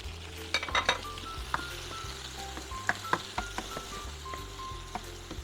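Ginger and tomato aromatics sizzle and fry in a pan for a pampano fish soup, with a steady hiss broken by occasional scrapes and taps of stirring.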